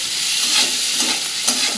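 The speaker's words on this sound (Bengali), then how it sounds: "চলো এটা ভেজে নিই পটল আর পেঁয়াজটা" Pointed gourd and onion frying together in a pan, a continuous close hiss of hot oil with a few spoon strokes pushing the pieces around, no one talking.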